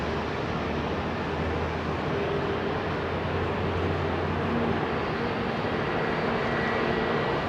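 An Icelandair jet departs London Heathrow runway 27R, producing a constant broad engine roar heard from a distance, steady and unbroken throughout.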